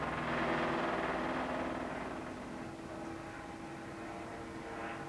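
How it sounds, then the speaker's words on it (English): A helicopter flying by outdoors, a broad, moderately faint rotor and engine roar that is strongest at the start and then eases slightly while holding steady. "there is a helicopter that's flying by."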